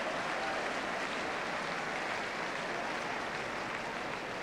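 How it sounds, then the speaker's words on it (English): A football crowd at an Ipswich Town v Nottingham Forest match applauds steadily in a dense, even wash of clapping that holds level throughout, broad and roaring from a large stadium. "Applause for both the pass and the attempt to collect."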